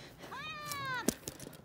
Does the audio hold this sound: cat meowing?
yes